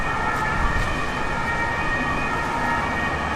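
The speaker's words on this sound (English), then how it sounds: "Sirens. Sirens everywhere." Emergency vehicle sirens wail steadily along a Paris street, loud and continuous, over a bed of road traffic noise, with no voices heard.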